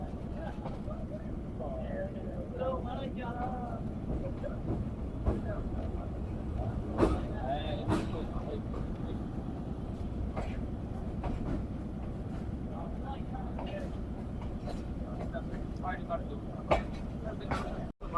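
Sialkot Express, the 171 Up passenger train, approaching Qila Suba Singh station in Pakistan, giving a steady low rumble of rolling stock with faint clatter and occasional clanks, near and continuous, with a voice talking over it.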